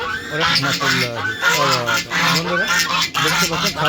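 Loud, busy quacking and honking from several ducks kept with chickens on a rooftop, calling over one another close by, continuous throughout.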